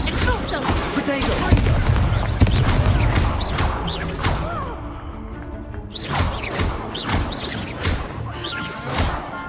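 Spell casts crack and boom in a Hogwarts Legacy dueling match, a dense run of loud blasts and impacts with magical whooshes, then sharper scattered hits as the exchange continues.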